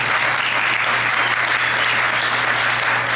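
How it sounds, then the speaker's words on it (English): A crowd applauds a historic building in Houston's Fifth Ward at the grand opening of the Mickey Leland CPA, a Houston school district event. The clapping is thick, loud and continuous throughout, over a low steady hum. "you can applaud for that"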